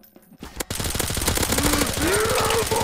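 Rapid automatic gunfire from Counter-Strike: Source zombie escape rattles on continuously and loudly after a brief quiet start, with dense overlapping shots and a few rising electronic tones mixed in.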